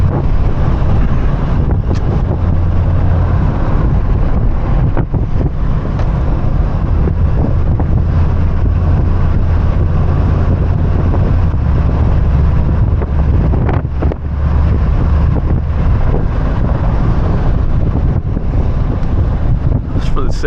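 Wind roars loudly and continuously through the open windows of a moving Mercedes-AMG G63, giving a heavy, buffeting rush with low road rumble underneath. A voice can be heard faintly under the noise.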